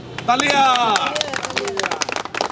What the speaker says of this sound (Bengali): নান্নু ভাইয়ের জন্য একটা করতালি